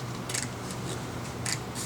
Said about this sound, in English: with the help of scissors just cut it